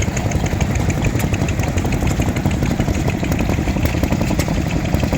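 An old stationary engine runs at a tractor fest, a steady, loud, continuous mechanical chugging that stays even and close throughout with no pauses.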